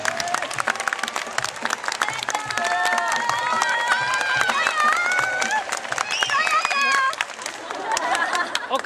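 Outdoor crowd applauding to welcome a singer back for an encore at a free street concert in Osaka, with steady clapping and cheering under melodic singing-like voices and chatter throughout.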